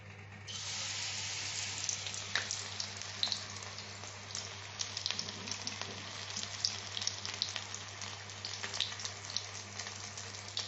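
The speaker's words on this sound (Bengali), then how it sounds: "চামচ দিয়ে নিয়ে তারপরে কড়াইতে দিয়ে দেবো।" Spoonfuls of battered mourala fish fritters sizzle steadily in hot oil in a kadai, a dense continuous frying crackle with small pops, close and alone with no talk, over a low steady hum.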